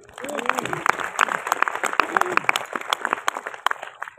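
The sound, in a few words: audience applause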